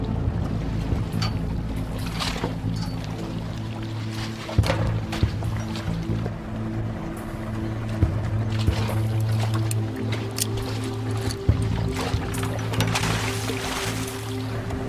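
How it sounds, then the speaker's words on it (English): A water taxi motors across the water, a steady low engine drone with water washing against the hull and occasional knocks, at moderate distance with no talk. "Looks like the water taxi's heading back to the water taxi depot."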